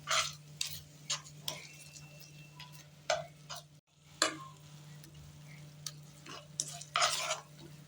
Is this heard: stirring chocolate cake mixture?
yes